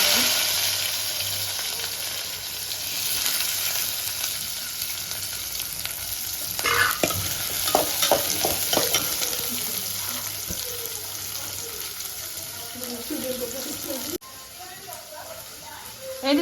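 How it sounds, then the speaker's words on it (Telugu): Mustard seeds and cumin frying in hot oil, a continuous close sizzle with scattered crackles and stirring, while a voice talks over it in places. "ఫస్ట్ ఆవాలు జీలకర్ర వేసినాను"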